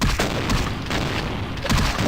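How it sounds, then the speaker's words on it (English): Shotgun blasts in the Vampire the Masquerade Bloodlines video game, a dense run of heavy booming shots and gunfire filling the whole stretch, loud and close with no pause between bursts. "those shotguns really hurt if you're close"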